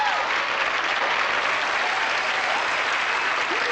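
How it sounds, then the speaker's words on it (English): An audience at a David Copperfield magic show applauds: sustained, dense clapping from a large crowd holds steady and loud throughout, with no talking over it. "Why was Matt's mom applauding?"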